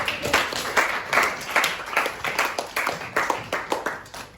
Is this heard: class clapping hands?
yes